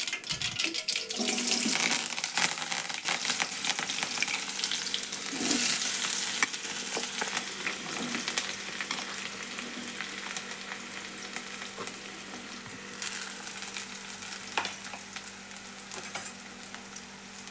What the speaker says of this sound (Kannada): ಈಗ ಎಣ್ಣೆ ಒಳಗೆ ಫ್ರೈ ಮಾಡೋಣ್ರಿ ಇವನ್ನ ಉಳ್ಳಾಗಡ್ಡಿ